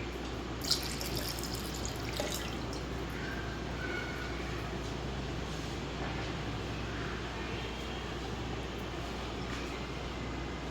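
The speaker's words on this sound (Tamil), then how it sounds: "இப்போ இது கூட 1 கப் பால் ஆட் பண்ணிக்கலாம்." A cup of milk poured into a mango lassi makes a steady, soft liquid trickle that runs the whole time over a low background hum, close but quiet, with no talking.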